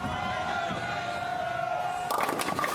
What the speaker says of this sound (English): They're yelling Lumberjacks right now.